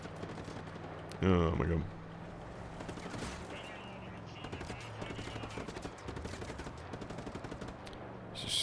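Video game gunfire in Just Cause comes as a short, loud, rattling burst near the start, followed by a low rumble of action, and a voice exclaims briefly.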